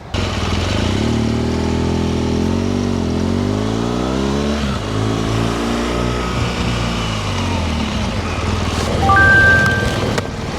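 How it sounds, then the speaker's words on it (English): A heavy motorcycle revs through rising gears, loud and close, then the engine note falls away sharply under hard emergency braking, with a brief squeal near the end. "When I get to these 2 cones, I'm going to do a full-on emergency brake"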